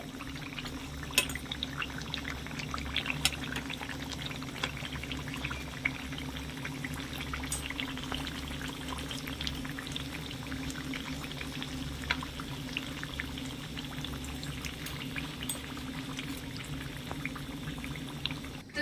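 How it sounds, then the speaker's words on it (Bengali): Mughlai paratha, a stuffed fried flatbread, frying in hot oil, giving a steady low bubbling and crackling hiss that holds even and close throughout, with faint sharp pops scattered over it and no voices. "একটু মুচমুচে হবে এই মোগলাই পরোটাগুলো মিডিয়াম আছে ভাজতে হবে"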